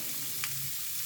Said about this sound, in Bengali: এবারে ভাজতে ভাজতে প্রায় কিছুটা ভাজা হয়েছে। এবার আমি পেঁয়াজ কুচিটা দিয়ে দেব